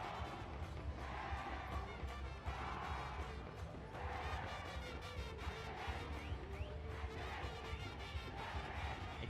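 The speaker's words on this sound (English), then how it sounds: "You can hear the cheers of the Trinity crowd in the background" Distant roar of a Trinity College crowd cheering at a schools cricket match against St. Anthony's, a steady wash of voices rising and falling in waves with no clear words standing out.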